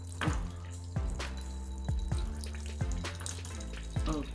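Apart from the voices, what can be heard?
coffee being poured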